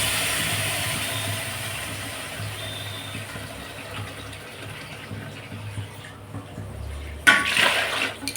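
Water poured into a pot of rice for mutton biryani, heard as a steady rushing pour that eases off before a brief, louder splash near the end.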